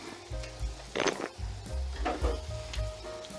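Onions and other vegetables sizzle in a hot pan while being stirred, with a steady frying hiss broken by scraping stir strokes and clatter, close and fairly loud.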